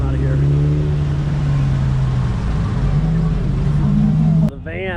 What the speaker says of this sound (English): There's so many cars going out of here.